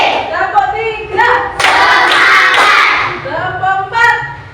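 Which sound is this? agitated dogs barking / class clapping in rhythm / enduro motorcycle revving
class clapping in rhythm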